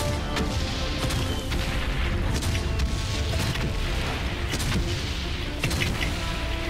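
Dense, continuous gunfire and booming blasts from the video game Valiant Hearts: The Great War, with rapid bursts and heavy explosions layered over a loud rumbling din.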